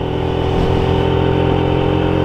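A small Honda C100 Dream motorcycle rides along a country road near Botucatu, its engine holding a steady, close, buzzing drone with no talk.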